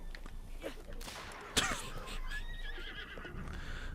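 A horse whinnies in Zelda: Breath of the Wild, its rising cry standing out over game sounds and a sharp impact, with people talking quietly underneath.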